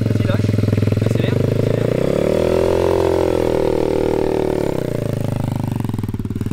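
A powerful motor vehicle engine revs up from idle, its tone rising and holding high before dropping back, loud and close throughout.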